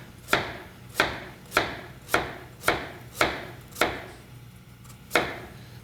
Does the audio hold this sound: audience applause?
no